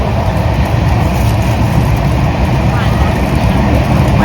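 Steady, loud rumbling from inside the moving Mandovi Express, a continuous carriage drone of wheels and motion that holds evenly throughout with no clear breaks.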